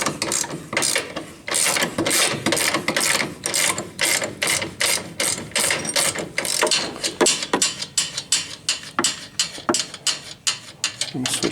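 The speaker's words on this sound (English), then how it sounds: "All you want to do is get this nut off, pretty much." A ratchet wrench loosens a nut on the lower mount of a Kawasaki A-arm, giving a long run of quick, close ratcheting clicks in bursts with brief pauses, growing more regular toward the end.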